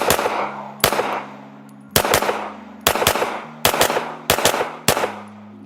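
Pistol fitted with a red dot optic fired at a range, about eight sharp, loud shots in uneven bursts with brief ringing echo between them, no talking.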